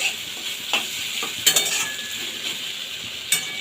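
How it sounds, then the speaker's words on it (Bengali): Chopped tomato frying in mustard oil with a steady close sizzle, while a spatula stirs and scrapes the pan in a few sharp strokes. "যতক্ষণ টমেটোটা না মজে যায় ততক্ষণ ভাজবো"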